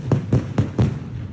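Fireworks go off in rapid succession, about four thudding booms spaced roughly a quarter second apart with a crackling tail. They are fairly loud, in a watched clip with no voices over them.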